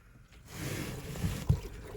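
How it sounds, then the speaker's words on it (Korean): Faint water trickling and splashing against a surface, building gently with a couple of soft thumps near the end; water sprayed onto a Jaguar XF during a leak test, heard from inside the trunk. "물소리 들리죠?"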